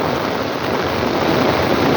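Heavy torrential rain pours down in a dense, loud, unbroken hiss that stays close and constant throughout, with no voices over it.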